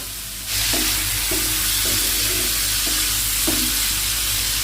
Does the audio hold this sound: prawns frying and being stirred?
yes